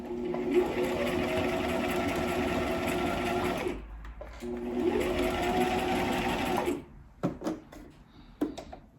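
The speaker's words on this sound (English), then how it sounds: "we did all these tracks on our sewing machine" A sewing machine stitching hair tracks for a wig runs in two long steady bursts with a short pause between, then a few brief stop-start stitches near the end.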